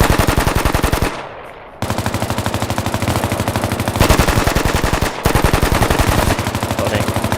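Sustained machine gun fire from a weapons squad in a tactical video game, loud and close, rapid even bursts running almost without pause, with one short break near the start.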